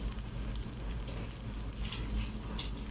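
Garlic fried rice (sinangag with garlic) sizzling in a pan, a steady close crackle of frying with occasional stirring scrapes and no talk.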